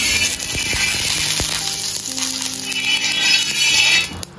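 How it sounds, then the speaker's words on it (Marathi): Dhapate flatbread frying in oil on a hot griddle, a steady bright sizzle with a few soft taps and clinks, close and fairly loud, with no voices. "ते तव्यावरती मस्त एक तेल टाकूया"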